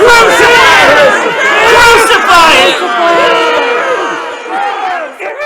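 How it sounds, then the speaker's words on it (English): Large crowd shouts a chant together in a Good Friday passion reenactment, loud massed voices rising and falling in repeated bursts, then fading near the end. "they shouted all the more, Crucify him! Crucify him!"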